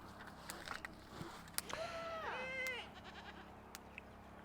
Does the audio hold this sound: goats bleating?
yes